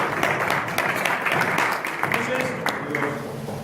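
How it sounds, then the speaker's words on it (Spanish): Church congregation applauding during a sermon, a steady wash of clapping that sustains throughout under light voices. "El aplauso es para Dios"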